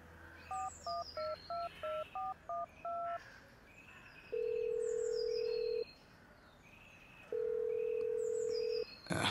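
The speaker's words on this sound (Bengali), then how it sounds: "ফোন রেখে দেওয়ার পর ফের ফোন করলো হিমাংশু।" A telephone number is dialed as a quick run of about ten keypad tones, followed by two long, steady ringing tones, with faint background ambience in a Bengali crime thriller audio drama.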